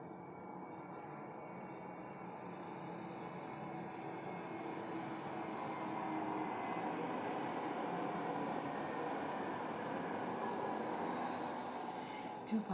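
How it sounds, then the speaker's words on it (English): An airplane passes at a distance, its faint, broad engine rumble slowly swelling and holding steady, alone and without talk. "There's an airplane going by."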